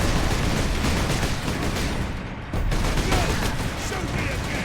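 Gunfire in the Warhammer 40K: Space Marine video game, dense and rumbling, a continuous barrage of shots and blasts filling the whole stretch at loud level, with a brief dip midway and a voice speaking over it.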